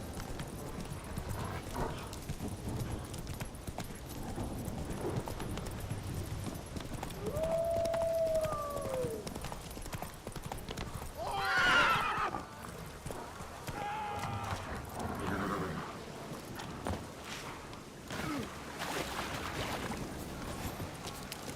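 A horse in The Witcher 3: Wild Hunt on PS5 clip-clops along at a steady pace with a rising whinny midway, under game music, a man's spoken lines and a rider's call.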